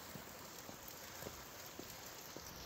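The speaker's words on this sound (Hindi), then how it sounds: "बारिश अभी भी हो रही है" Rain falling in a Himachal village in winter, a faint, steady patter of drops hitting surfaces with scattered soft taps, continuous and without voices.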